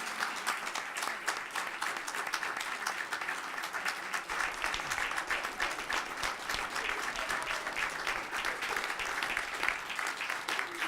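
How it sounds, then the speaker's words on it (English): Sustained applause fills a city council chamber in Birmingham as the Winona Lady Dragons are congratulated, a steady dense clapping from many hands that holds at an even level throughout with no talk over it. "Let's give a big round of applause and congratulations to Winona Lady Dragons."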